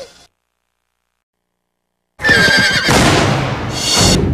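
A horse's loud whinny and neigh bursts in after a stretch of silence, close and prominent, followed by further agitated equine calls and commotion as part of the trailer for the DreamWorks animated film Spirit.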